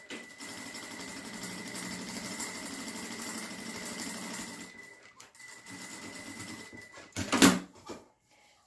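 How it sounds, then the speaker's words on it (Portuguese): Sewing machine topstitching along the top edge of a bag pocket opening, a steady mechanical run for about five seconds, then a pause and a brief louder burst near the end, with no talking. "aqui nessa parte de cima, onde vai ficar aberto o bolso, nós vamos fazer uma costurinha de pesponto"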